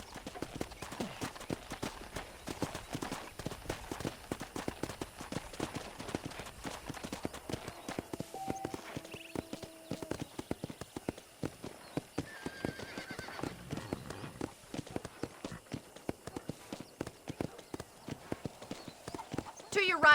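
Horse galloping in Red Dead Redemption, a steady rhythmic clip-clop of hooves throughout, with occasional neighs and soft game tones layered over the hoofbeats; no one speaks.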